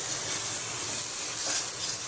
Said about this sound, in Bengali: টমেটো দিছি, পেঁয়াজ দিছি, কাঁচা লঙ্কা দিছি, শুকনো লঙ্কার গুঁড়া, হলুদের গুঁড়া আর লবণ দিয়ে পুরা লাল লাল করে ভাজতেছি।